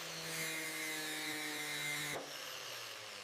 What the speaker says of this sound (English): Shutting down the grinder.